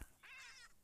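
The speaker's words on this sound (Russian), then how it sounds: "когда появляется, кошка мяукает" A cat meows in a Minecraft animatronics mod, one short, faint, high drawn-out mew heard alone in a quiet game scene.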